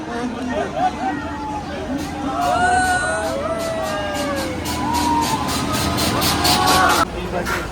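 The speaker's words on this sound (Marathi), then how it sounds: "वेरावल गाडी आली आपली आणि खूप गर्दी आहे" Crowded railway platform at Vasai as the Veraval train pulls in, a dense hubbub of voices and chatter under rising metallic screeches and rumble of the arriving train, close and continuous throughout.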